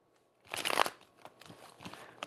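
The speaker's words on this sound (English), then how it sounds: "That was a terrible shuffle." Tarot cards are shuffled, a burst of crisp riffling and flapping that peaks early, then trails into a few lighter taps and card slides, close and alone without talk.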